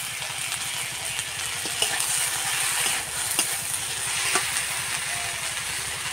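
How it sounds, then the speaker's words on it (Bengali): Helencha greens being stirred in a hot pan, a continuous close sizzle with scraping stir strokes and a low rumbling hum underneath, with no speech. "শাকটা ভালোভাবে নাড়াচাড়া করে নিচ্ছে"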